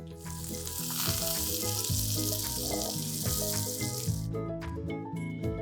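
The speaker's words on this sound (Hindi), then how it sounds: "जो बाकी के भी पनीर के पीसेस हैं इनको भी हम फ्राई कर लेते हैं।" Paneer pieces sizzle in hot oil in a pan, a continuous bright frying hiss that runs under prominent background music and cuts off abruptly toward the end.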